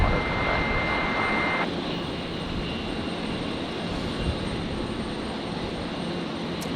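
A Qantas Boeing Dreamliner jet airliner lands at Brisbane Airport, its broad engine roar steady and fairly loud throughout, with a sustained whine that drops away after the first couple of seconds.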